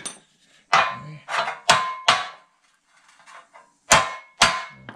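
Loud metallic hammer blows on the front sheet metal of a 1952 Ford F1 pickup ring out one after another at an uneven pace, each strike clanging sharply with brief pauses between groups.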